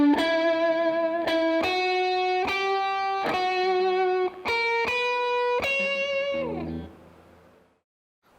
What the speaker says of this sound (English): The lead in into the last part of the solo goes like this.